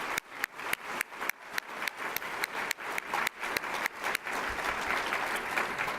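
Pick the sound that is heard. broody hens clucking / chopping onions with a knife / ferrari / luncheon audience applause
luncheon audience applause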